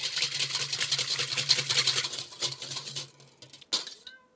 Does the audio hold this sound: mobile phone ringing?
no